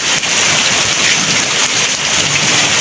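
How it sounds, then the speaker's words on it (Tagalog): Heavy rain pours steadily in Bicol, a dense, loud, close hiss of drops hitting surfaces without a break. "ulan pa rin ngayon"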